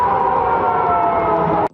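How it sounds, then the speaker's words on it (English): A loud, sustained air raid siren wail blares steadily for nearly two seconds in Russia during strikes, then cuts off abruptly. "and blaring air raid sirens"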